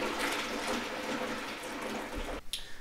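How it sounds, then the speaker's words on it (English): Boiling water pours into a sous vide cooler in a steady, hissing splash that runs for a few seconds, then cuts off with a brief trailing drip and clink. "I'm going to add some more boiling water to bring that temperature back up"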